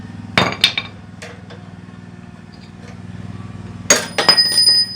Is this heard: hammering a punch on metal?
yes